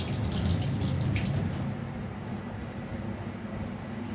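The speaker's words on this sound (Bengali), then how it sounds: "তেজপাতাটা আমি ধুয়ে নিচ্ছি" Bay leaves rinsed under running tap water in a kitchen while cooking khichuri, a soft steady splashing that thins out and quiets partway through.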